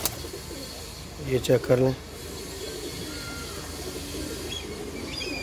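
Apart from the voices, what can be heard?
pigeons cooing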